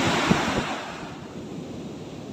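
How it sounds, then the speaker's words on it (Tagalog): Big sea waves crash and wash along the shore in a steady, loud roar of surf. Wind buffets the microphone throughout, and no voices are heard. "Ito yung dagat, oh. Anda, ang lalaki ng alon."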